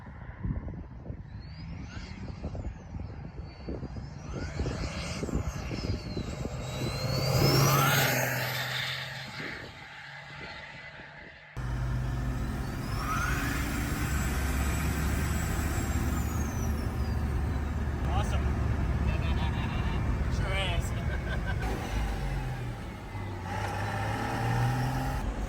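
Custom chain-drive truck called Chain Smoker cruising on a public highway, a steady loud engine and road drone with wind noise, heard from inside the cab before the sound shifts to a more muffled, deadened cabin hum.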